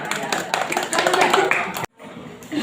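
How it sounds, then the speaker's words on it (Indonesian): Classroom applause for a student group, a dense burst of many hands clapping at moderate loudness with speech mixed in, cutting off abruptly before a quieter stretch of room sound. "Oke, beri aplaus untuk kelompok 5"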